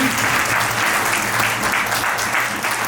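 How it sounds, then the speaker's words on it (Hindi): Loud, dense applause from a large audience at a poetry event's opening session in Prayagraj, sustained and even throughout. "इन सभी रचनाकारों के लिए जोरदार तालियां होनी चाहिए।"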